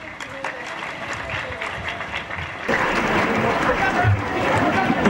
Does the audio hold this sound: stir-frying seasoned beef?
no